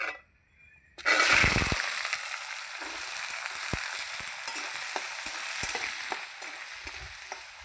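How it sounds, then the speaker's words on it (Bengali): After a brief silence, potatoes land in hot oil tempered with dried red chillies and burst into a loud, steady sizzle that keeps crackling close up, with occasional pops and stirring. "আলু দিয়ে দিচ্ছি"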